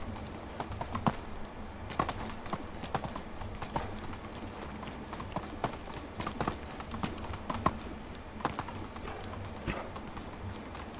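Horse hooves clip-clop across the ground in the medieval village-life game Medieval Dynasty, a steady rhythmic run of hoof strikes at close range over a low ambient background, with no talking.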